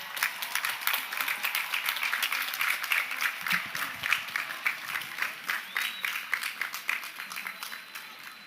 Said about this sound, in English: Give them a shout and a round of applause.